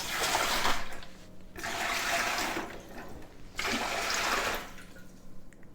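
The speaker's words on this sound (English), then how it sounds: "I use 3 quarts in my canner" Warm water pours into a new Presto pressure canner in three long, rushing bursts separated by short pauses, loud and close with no talk.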